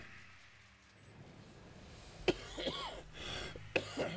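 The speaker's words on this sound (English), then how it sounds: "I apologize for all my coughing." Someone coughs a few times in short bursts, close and fairly loud, while playing Shadow of War, with quiet game ambience underneath.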